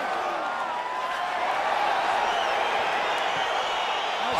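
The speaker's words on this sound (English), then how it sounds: "crowd getting excited as this fight gets underway" An arena crowd roars at the start of a fight in EA Sports UFC 4, a broad, steady wash of cheering that holds evenly throughout at moderate loudness without clear individual voices.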